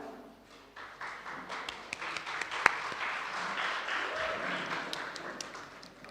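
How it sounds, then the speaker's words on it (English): An audience at a stakeholder engagement meeting breaks into scattered applause that builds to steady clapping, moderately loud in a room, with one sharp close clap standing out. "Yes, you can clap."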